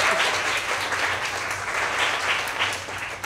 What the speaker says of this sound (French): Applaudissez pour lui.